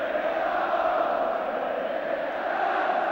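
A packed football crowd at an FA Cup semi-final between West Ham United and Everton roars in a steady, distant wash of cheering and chanting.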